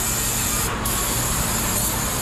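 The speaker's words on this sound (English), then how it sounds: "I'm gonna do one more spray down just for good measure" Brake cleaner sprayed from an aerosol can onto a Robinair A/C service machine, a loud continuous close hiss with a brief break midway, no voices.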